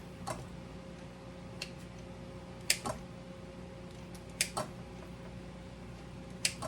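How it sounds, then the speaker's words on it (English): Kitchen scissors snip while food is cut into quarters for a breakfast casserole, giving a handful of sharp, separate clicks spaced a second or two apart over a faint background hum. "just take you some scissors and cut them in fourths"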